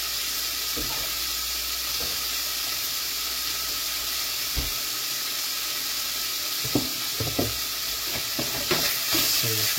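Food with a couple of bay leaves sizzles steadily in a frying pan, with scattered scraping stirs growing busier toward the end, close and moderately loud with no talking.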